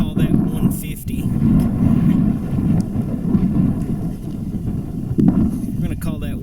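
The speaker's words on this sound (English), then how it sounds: "This wind makes everything worse." Strong wind gusting outdoors during a night field test of a flashlight, a constant low roar buffeting the microphone throughout, with someone talking over it.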